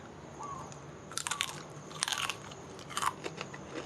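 Crunchy salted fried taro strips are bitten up close, with several sharp crisp crunches spaced about a second apart against a quiet background.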